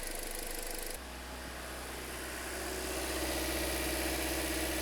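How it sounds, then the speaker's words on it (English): A 2008-2013 Toyota Corolla engine idles steadily through a long warm-up, a constant low hum with a deep rumble and even vibration, rising slightly louder partway through, close by with no talking. "this has been warming up for probably 45 minutes at this point"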